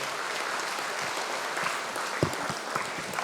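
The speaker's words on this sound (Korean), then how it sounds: "박수로 부탁합니다" Steady applause from a forum audience, a continuous dense patter of many hands clapping with a few sharper claps standing out.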